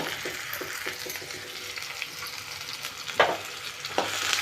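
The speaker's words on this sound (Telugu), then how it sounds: "ఎర్రగా కావాలా, బంగారు అవన్నీ వచ్చే వరకు వేయించుదాం" Onions and green chillies fry in a pan with a steady, close sizzle, broken by scraping stir strokes and a couple of sharper clatters near the end; no voices.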